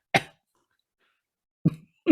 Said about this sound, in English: was that a real cough then?